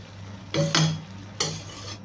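A spoon stirs vermicelli with saffron and sugar in a pan, making two short scraping, clinking strokes against the metal. They sound close and fairly crisp over a quiet background hum.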